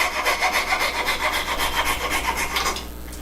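A hand saw with about 18 teeth per inch cuts through wooden crown molding in quick, even back-and-forth rasping strokes, close and clear, before stopping.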